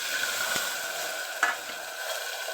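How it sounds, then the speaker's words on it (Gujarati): Potatoes sauté in a hot pan with chutney of chillies and garlic, making a steady close sizzle with a couple of light stirring scrapes, no voices. "હવે એને આપણે થોડા સાંતળી લઈશું"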